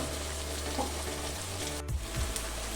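Kerala-style beef pepper roast frying in a pan, a dense, steady sizzle throughout with a low rumble underneath and a couple of brief stirring knocks near the end.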